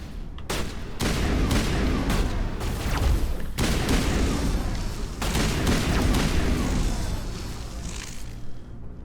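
A semi-automatic assault rifle in Mass Effect fires rapid, loud shots in dense bursts that run almost unbroken for several seconds, with booming impacts and short pauses between volleys.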